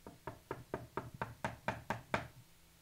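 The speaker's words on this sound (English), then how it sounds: "And I knock on the door lightly." Light knocking on a door performed as Foley, nine or ten evenly spaced soft knocks in a steady rhythm, close and fairly quiet, alone without talk.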